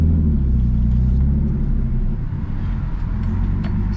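A turbocharged BMW E30 engine rumbles close by with a deep, steady low tone, holding a fairly constant idle-like drone for a few seconds without talking.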